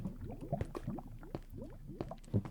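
Lava bubbling in Minecraft, near a lava lake while mining underground: soft, wet gurgling pops and squishy bursts repeating irregularly at low volume, with no talk.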